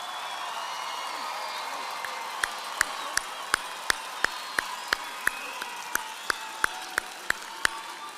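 Sustained crowd applause at a spring 2026 San Jacinto College commencement ceremony, a steady dense wash of clapping and cheering from a large audience, with a regular series of sharp, loud claps or clicks beating about three times a second from two seconds on.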